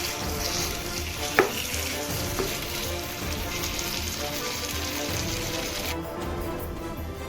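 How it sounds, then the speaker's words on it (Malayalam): Chicken wings sizzle and roast in a pan with a dense, continuous crackle, close and even. Two brief clinks of a utensil sound early on. "ഇതൊന്ന് നന്നായിട്ട് മിക്സ് ചെയ്ത് വീണ്ടും നമുക്ക് അടച്ചു വെച്ച് 5 മിനിറ്റ് കൂടി ഒന്ന് വേവിച്ചെടുക്കാം."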